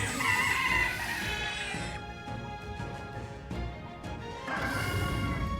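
A strange bird in a video game lets out loud, harsh crowing and clucking calls, broken by a brief quieter stretch before the cries return.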